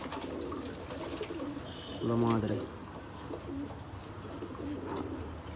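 Pigeons or doves cooing outdoors on a cold, sunny day, a short close burst of low repeated coos standing out in the middle, with a person talking quietly around it.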